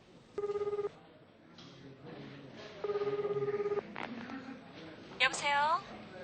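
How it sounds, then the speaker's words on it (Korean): Telephone ringing during a radio drama phone call, made from a post office: two bursts of a steady electronic ring with a pause between them, fairly clear and close, followed by a brief click and other faint sounds. "그는 우체국에 들어가 애인 위충에게 전화를 걸었다."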